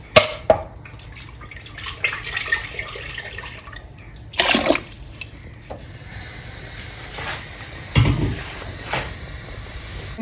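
Water is poured from a blender into a pot of wild chicken light soup, giving a few short splashing bursts between soft drips and trickles. The sounds are close and intermittent.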